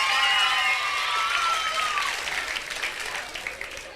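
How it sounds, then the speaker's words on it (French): An audience at a 1983 Réunion comedy show of games, dances and songs gives a strong round of applause for a contestant, a dense wash of clapping with a short melodic voice at the start, thinning toward the end. "je vous demande de l'applaudir très, très, très, très fort"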